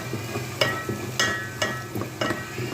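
Egg fried rice for a Chinese-style dish stirred and fried in a hot pan over a raised flame, with a steady sizzle broken by several sharp spatula scrapes and knocks.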